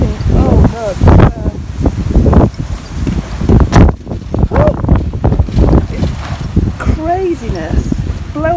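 Strong wind gusting across an outdoor homestead, roaring and buffeting the microphone in loud continuous waves with rustling debris, while a person talks over it throughout.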